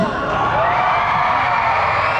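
A large crowd at a live show shouts and cheers loudly and continuously, a dense wall of voices and whoops filling the whole moment.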